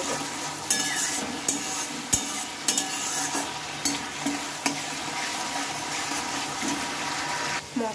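Spice masala cooked with a little water in a pan: a bubbling, watery sizzle with regular sharp scrapes of a spoon against the pan, close and fairly loud with no talking.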